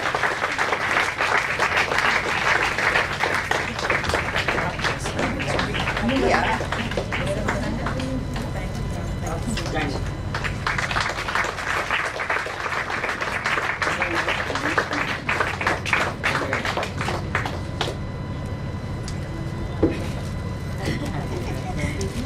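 Round of applause from the audience at a Women's Day celebration as a memento is presented to the guest of honor, a dense, steady wash of clapping throughout with some voices mixed in.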